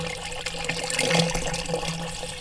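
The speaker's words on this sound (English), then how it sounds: "I will now only add the rest of the water." Water being added to a biodigester splashes and pours in a steady close gush that swells briefly in the middle, alone without talk.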